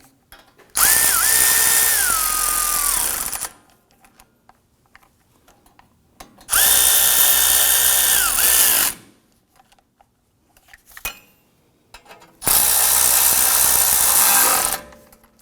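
An impact-style power tool snugs down wheel hub bolts on a 2015-2020 Ford F-150 during a front wheel bearing and hub replacement, firing in three loud, close bursts of about two to three seconds each, with quiet pauses between.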